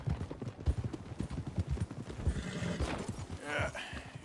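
A horse's hooves clip-clop in a PS4 video game, a rapid, near, steady rhythm of hoof strikes, with a whinny toward the end and voices speaking over it.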